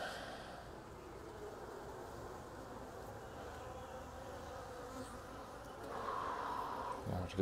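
A swarm of honey bees hums steadily in a plastic tote during transfer into a nuc box, a faint, continuous buzz with a slightly louder swell near the end.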